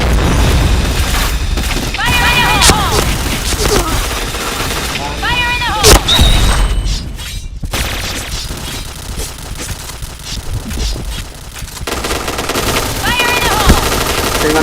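Video game combat: grenade explosions and bursts of automatic gunfire, loud and repeated across the clip, with players shouting over the action.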